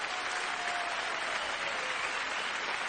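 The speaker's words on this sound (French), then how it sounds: "Applaudissez-la encore très fort" Steady, full studio audience applause for a singer on a French television variety show, a dense, even wash of many hands clapping throughout without a break.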